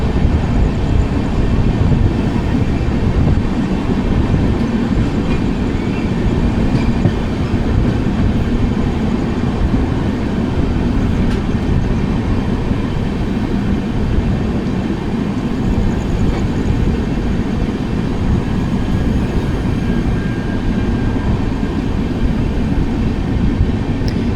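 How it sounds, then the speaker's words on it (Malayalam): The Matsyagandha Express passes close by in a loud, continuous roar of rolling wheels and rumbling carriages that stays steady throughout, with no talk. "മത്സ്യഗന്ധ എക്സ്പ്രസ് ആണ്."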